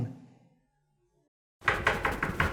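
Someone knocks on a door in a Pakistani TV drama, a sudden series of five firm, evenly spaced raps that follows a moment of near silence.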